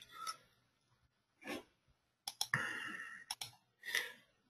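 A computer mouse clicks in sharp bursts, several single clicks then a quick cluster, close and fairly faint in a quiet room, while a voice speaks softly in between.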